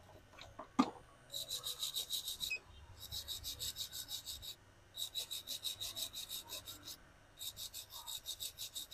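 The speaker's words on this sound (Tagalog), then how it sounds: "Linisin natin yung madumi. Yung kanyang rotor." Dirty distributor rotor from a Mazda 323 being cleaned, a rhythmic rasping scrub in repeated bursts of quick strokes with short pauses between them, close and fairly quiet.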